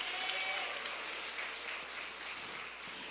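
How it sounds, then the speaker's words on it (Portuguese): A church congregation claps steadily and loudly, a dense wash of applause filling the whole stretch with no pauses. "Você pode aplaudir o Senhor?"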